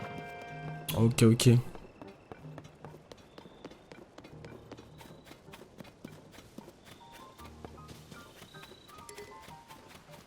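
A horse's hooves clip-clop in the video game Zelda: Tears of the Kingdom, first a loud burst of galloping beats, then lighter rhythmic taps, with a brief spoken phrase.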